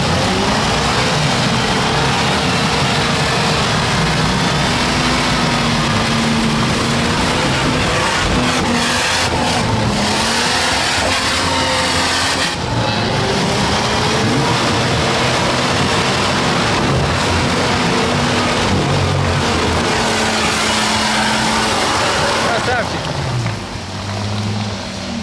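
An off-road vehicle's engine labors and revs during a mountain off-road competition, a loud continuous drone rising and falling in pitch for the whole stretch, with people talking over it.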